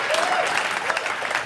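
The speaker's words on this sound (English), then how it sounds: "I will tell her, you clapped." Audience applause fills a stand-up comedy special, a dense, steady clapping from a full crowd sustained for a second and a half with no voice over it.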